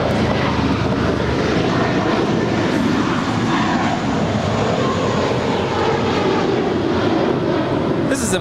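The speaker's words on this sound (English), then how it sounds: "This is American Airlines 1029 departing to Chicago O'Hare. It's an A321." An American Airlines Airbus A321 departing LAX gives a loud, steady broadband engine roar that holds evenly throughout, close and unbroken, with faint voices underneath.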